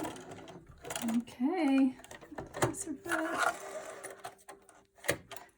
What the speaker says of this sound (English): I just stitched from this notch to this notch.